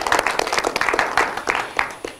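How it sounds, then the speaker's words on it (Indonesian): An audience on a student stage show in a TV studio applauds: dense, continuous clapping with sharp bursts throughout, loud and close, with no voices. "Beri tepuk tangan sekali lagi boleh"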